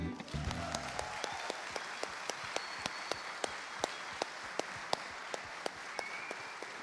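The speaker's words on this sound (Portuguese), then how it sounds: "Recebam agora, com uma salva de palmas que louvam ao Senhor, ele, Pastor Felipe Araújo" A church congregation at a family service conference applauds a pastor, a steady, fairly distant round of clapping with sharp individual claps standing out, continuing without pause.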